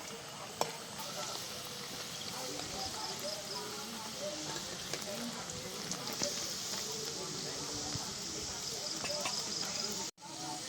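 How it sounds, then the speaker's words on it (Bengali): Breakfast snacks dropped into hot oil, a faint crackling sizzle with scattered pops and scrapes while a person talks over it. "তেল গরম হয়ে গেছে, এবার এগুলোকে ছেড়ে দেবো তেলের উপর। হালকা আছে, এটাকে ভাজবো খুব ভালো করে।"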